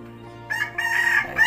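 A rooster crows close by beside a chicken coop over a riverbank fishing spot, its bright call rising and holding for about a second with no talk.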